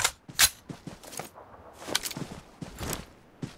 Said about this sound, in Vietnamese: Tầm xa có tiếng súng nữa anh em ơi